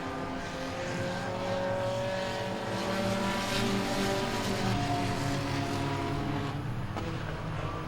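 Race cars in an enduro event at Langley Speedway roar past on the track, a dense, continuous wall of overlapping engine drone with shifting pitch as faster cars go by, loud and steady throughout.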